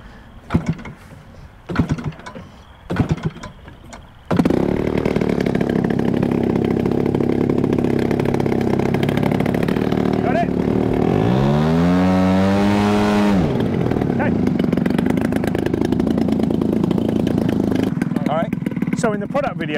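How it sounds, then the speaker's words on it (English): A DLE 170 gas engine on an RC Carbon Cub plane catches after a few flips, then runs loud and steady with a buzzing drone, briefly revving up and back down midway. "I will start it up. So, reach in the cowling, choke on, nice and easy, through the intake. Should take a couple of flips with the DLE 170."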